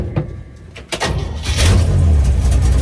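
A C60 truck with bad brakes cranks with a few sharp clicks and knocks, then its engine fires up and settles into a loud, close, rumbling idle.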